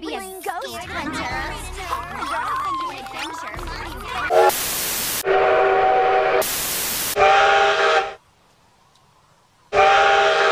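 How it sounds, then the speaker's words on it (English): Speech is followed by three sharp whistle blasts from steam locomotive CN 3254, with airy hissing, separated by short pauses; the last stops suddenly before one more begins. "Steam engines have whistles that sound like this."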